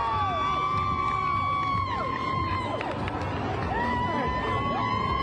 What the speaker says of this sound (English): The crowd is cheering.